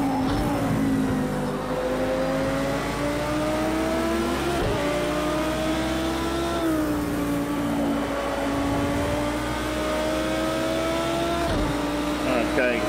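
Nissan Skyline GT-R race car engine in Project CARS 2, droning steadily with rising and falling revs and occasional gear shifts, loud and continuous throughout, with a voice talking over it.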